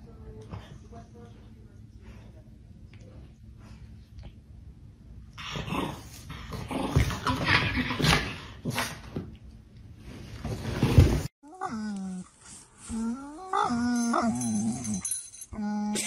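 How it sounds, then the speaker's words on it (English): A Chihuahua growls low and steadily at first, then breaks into bursts of sharp, yappy barking and whimpering. Voices talk and call out in between, and a loud stretch of barks and talk fills the final seconds. "Guard Chihuahua on duty."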